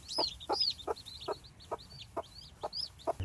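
Newly hatched chicks peep in a quick, regular series of high chirps alongside soft clucking from chickens, fairly close and fairly quiet, with no talk.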